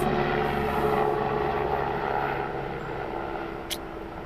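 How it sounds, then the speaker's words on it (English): A low, rumbling rotor drone fills the clip steadily, loud at first and easing slightly as it passes, with a brief sharp click near the end. "Oh, it's a helicopter."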